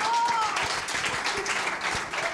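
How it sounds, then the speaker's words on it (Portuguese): Audience at a stand-up comedy show breaking into applause: a brief, steady patter of many hands clapping at moderate loudness, with a faint voice underneath. "¡Qué público que elige los momentos para aplaudir!"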